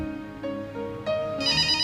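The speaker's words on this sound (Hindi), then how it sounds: "फोन बज रहा" A phone ringtone plays a short melodic electronic tune, clear and close, with no talking.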